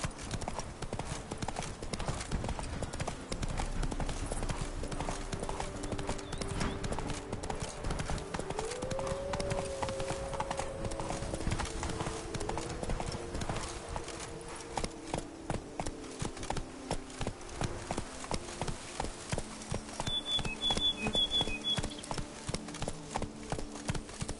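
Horse hooves galloping in a video game, a steady rapid clip-clop rhythm running throughout at close range over game music and ambience, with a brief neigh-like sound and no talk.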